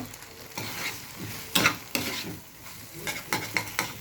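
A spoon stirs cornflour slurry into chili soybean in a hot pan, giving scraping strokes over a steady sizzle with several sharper clatters of utensil against the pan.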